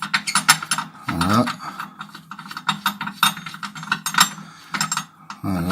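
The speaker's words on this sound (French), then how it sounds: "il faudra se munir d'une clé de 13 afin d'enlever la protection de courroie" A 13 mm wrench works the bolts off the belt guard of a Husqvarna rider mower, giving repeated ratcheting clicks and metallic clinks at close range while someone talks over much of the work.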